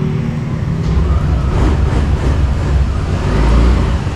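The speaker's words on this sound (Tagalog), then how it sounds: "Pakinggan nyo yung makina ng ating Aerox 155." A 2024 Yamaha Aerox 155 scooter engine idles and runs steadily, a continuous rumbling drone with slight surges in revs, close by and without talk.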